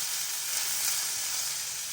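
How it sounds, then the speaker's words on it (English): Steady, bright sizzling of sirloin steak frying in a hot pan, a continuous close crackling hiss with no voices. "Sizzling away"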